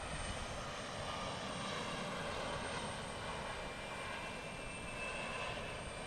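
An Embraer E-175 jet arriving from Minneapolis comes in to land at Portland International Airport, a steady, distant engine roar that holds evenly with no voices.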